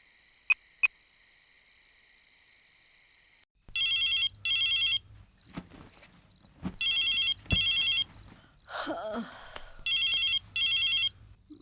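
A telephone rings in a Tamil film scene, its electronic ringtone repeating in paired bursts after a steady high tone, with other noises in between and no talk.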